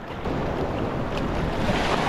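Sea waves wash in off the island coast of Koh Larn, a steady broadband roar of surf mixed with wind buffeting the microphone, close and fairly loud, with no speech.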